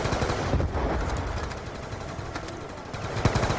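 Two AM-94 rifles and a hammer weapon fire together on a zombies map in a shooter game, a loud, dense, continuous rattle of automatic gunfire for the whole stretch with a few sharper cracks standing out.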